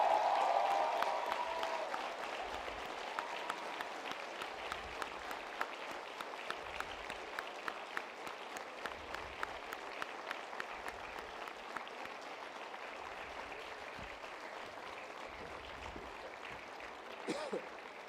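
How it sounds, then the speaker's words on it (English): Graduates at a business school graduation ceremony on the Mohali campus applaud and cheer toward their families, a sustained dense clapping that stays loud and steady throughout, fading slightly near the end. "give them a very big round of applause and the loudest possible cheer"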